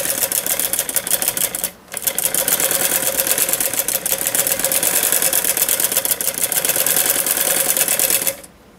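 Sewing machine running steadily for several seconds while stitching fabric for a mohri (poncha) sleeve-cuff design, with a brief pause near two seconds before the fast, even whirring resumes and stops near the end.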